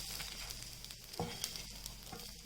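Poha tikki patties sizzle steadily in an oiled pan, a continuous close crackling frying sound with a few soft scrapes and taps from turning them, no voices.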